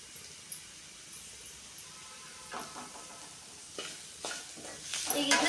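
Mint rice is mixed in a pan with a spoon, quiet scraping and stirring strokes coming in short bursts over a faint sizzling hiss and growing busier toward the end.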